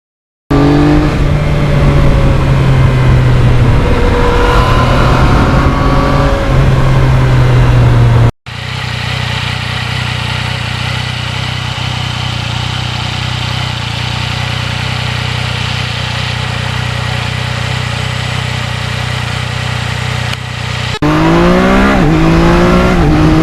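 A 2020 Yamaha MT-09 motorcycle engine runs loud and steady while riding, its tone shifting through gear changes with a sustained drone through the middle and revving rises at the start and end.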